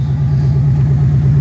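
A 1997 Ford Mustang GT with a new Quantum 340lph fuel pump idles smoothly, its steady low engine rumble close and loud with an even, unbroken rhythm.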